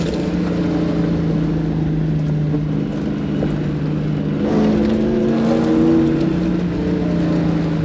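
A 1UZ-engined Toyota Surf driving over gravel, its V8 droning steadily with a low continuous hum and shifting pitch, tyres crunching beneath, loud and close from inside the cab.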